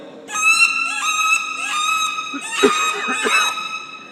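Wood duck call blown by a person to imitate a flying wood duck, giving a series of high squealing whistles, loud and close, with rising and falling cries and a few breathy bursts.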